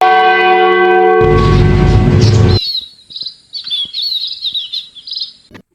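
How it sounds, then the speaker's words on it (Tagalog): A loud church bell rings from the bell tower with a long humming tail, then it stops and birds chirp and twitter in the quiet. "hanggang sa tumunog ang kampana sa kamparyo ng simbahan"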